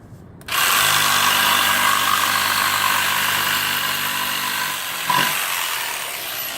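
A jigsaw cuts through wood veneer guided on a shim, starting abruptly and holding a loud, steady buzzing whine of blade and motor for several seconds, with a brief change in pitch near the end.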